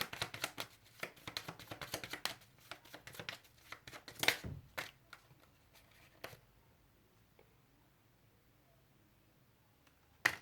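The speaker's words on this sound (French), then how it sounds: "Je vais prendre une carte pour les Verseaux." Tarot cards are shuffled and handled in quick papery bursts for the first few seconds, with a couple of sharper flicks as cards are drawn, then near silence with one soft tap at the end.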